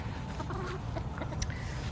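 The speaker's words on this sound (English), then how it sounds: "And we got somebody saying hello. That's Adam's chicken." A chicken clucks softly on a homestead, low continuous fowl murmurs under steady outdoor background noise, fairly near but not loud.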